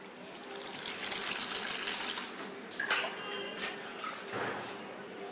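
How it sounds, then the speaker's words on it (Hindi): Water pours steadily into a pressure cooker holding millet porridge, giving a close, continuous splashing gush that swells and eases over several seconds, with no talk. "1 कटोरी बाजरे का दलिया लिया है तो 3 कटोरी हम उसमें पानी डालेंगे"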